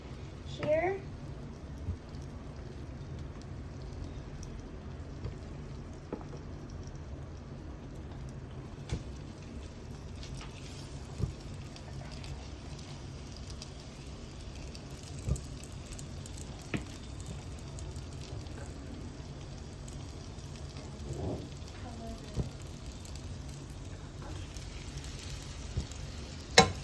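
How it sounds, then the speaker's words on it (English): Vegetables and meat for okonomiyaki sizzle in a frying pan, a soft steady hiss running throughout with faint scattered clicks and occasional talk over it. "So next we put the vegetables and meat on the fry pan."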